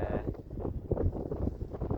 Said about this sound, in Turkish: Şu anda rüzgar sesinden dolayı üzgünüm.